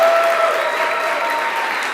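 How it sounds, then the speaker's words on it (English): Wedding guests applaud Michael and Jim at a toast, a steady dense wash of clapping that stays loud throughout and fades only slightly near the end. "So just a round of applause for Michael and Jim"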